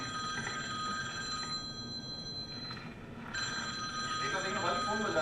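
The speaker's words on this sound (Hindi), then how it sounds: "देखा भाई, फोन बजा देगा।" A telephone bell rings in repeated bursts with short gaps, over a noisy background and a voice.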